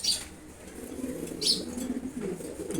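A grizzle male and a maxi racer female pigeon cooing softly in low repeated bursts, with a couple of sharp wing flaps standing out close by.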